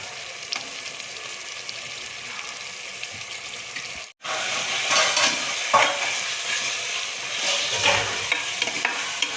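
About 300 grams of chicken frying in a pot for biryani, with a steady close sizzle and repeated scraping stirs that briefly cut out and then return louder, with no talk.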